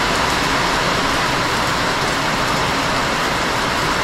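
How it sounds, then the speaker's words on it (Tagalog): Heavy rain pours down without letup in stormy weather, a dense, even hiss of drops close by that fills the whole stretch, with no voices or other sounds breaking through. "hanggang ngayon ay bumubuhos pa rin pong ulan"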